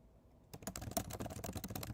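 Loud, rapid clatter of keys on a computer keyboard starts abruptly and continues in dense, irregular bursts close to the microphone.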